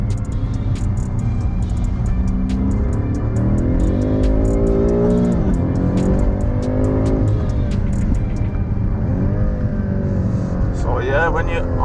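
Loud engine of a 2020 BMW M5 Competition accelerating out of corners on a track, revs rising and falling in repeated sweeps while someone talks over it.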